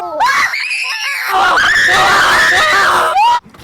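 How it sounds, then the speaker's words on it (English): A person lets out a long, loud, strained scream during a woodworking challenge, sustained for about three seconds with a brief dip partway and a sharp cutoff at the end, right up close. "The signature scream."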